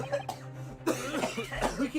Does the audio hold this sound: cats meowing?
no